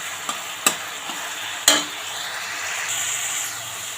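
Spinach sizzles softly in a pan with cauliflower nearby, with a spatula giving a few sharp scraping clacks over a steady frying hiss and no talk.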